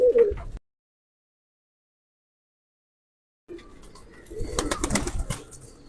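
Domestic pigeons kept by a hobby fancier: a brief burst, then silence, followed by close, rustling wing flaps and soft cooing that build in loudness toward the end.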